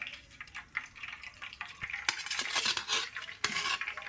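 Chicken bhaji pieces dropped back into hot oil for a second fry, with crackling sizzle, scattered utensil clinks and stirring clatter that swell in the second half, close and moderately loud with no talking.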